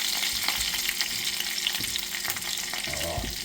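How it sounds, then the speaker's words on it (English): Food sizzles steadily in a hot frying pan, waiting for garlic, a close, continuous crackling hiss with occasional stirring scrapes. "we're going to listen to that sizzle"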